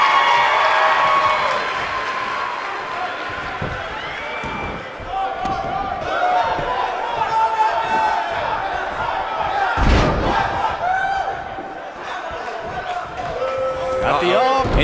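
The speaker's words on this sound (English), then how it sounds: "This capacity crowd starting to sense the end is near" A capacity arena crowd in the WWE 2K19 wrestling video game roars and cheers beneath a commentator's voice, with occasional sharp slam impacts punctuating the sustained noise.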